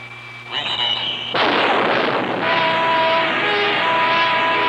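An X-15 rocket aircraft engine starts up during a ground test run, moving from a low hum to a sudden loud, steady roar that holds to the end, with a narrator's voice partly underneath.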